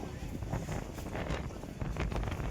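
Cold wind on the steps of Girnar mountain buffets the microphone with a steady, blustery rumble and gusty roar that continues without a break.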